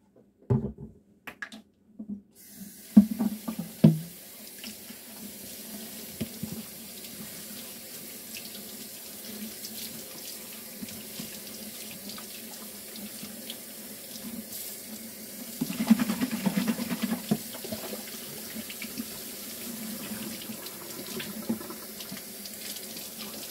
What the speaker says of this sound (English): I'm going to go ahead and wash this bottle up so that I can refill the ketchup